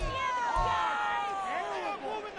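Stadium crowd in the Madden 24 football video game, a dense steady roar of many voices with whistling tones on top, loud and continuous throughout.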